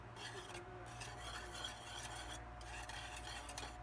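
Banana saba donut batter is stirred in a bowl with a utensil, giving soft, continuous wet mixing and light scraping, close but quiet, with no talking.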